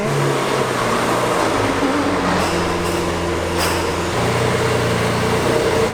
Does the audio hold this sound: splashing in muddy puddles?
no